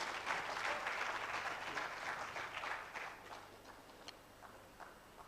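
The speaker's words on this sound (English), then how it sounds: "Please give him a round of applause." Applause at an engineering memorial lecture hall, a crowd clapping steadily and moderately loud at first, then thinning into scattered, fading claps toward the end.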